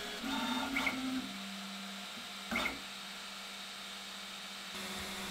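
An E3D toolchanger 3D printer drops off a tool: mechanical clicks and a brief motorized whir over a steady machine hum, with a couple of short sharp clacks as parts shift, then the hum resumes.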